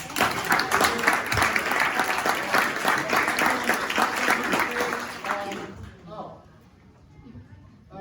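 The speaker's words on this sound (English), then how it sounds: "let's give him a round of applause" An audience applauds at an outdoor amusement park ribbon-cutting ceremony at Dustin's Adventureland. The loud, dense clapping lasts about five seconds, then thins out and fades away.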